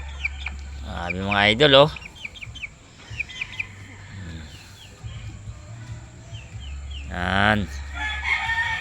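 Pure White Hatch gamefowl roosters crow nearby in two long, loud calls with softer clucks and chirps between them, while someone talks over the birds.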